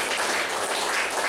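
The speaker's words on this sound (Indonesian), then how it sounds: "Enggak tepuk tangan buat Tuhan." A church congregation claps in a steady, continuous wash of applause that stays at an even level for the whole short moment.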